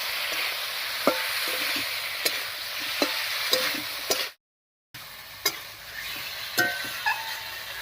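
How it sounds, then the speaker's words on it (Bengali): Ridge gourd and potatoes with turmeric, salt and coriander fry in hot oil as a spatula stirs them, a steady close sizzle broken by sharp scraping clicks and one brief dropout. "এবার খুব ভালো করে আলুর সঙ্গে কষিয়ে নেব ঝিঙে আলু"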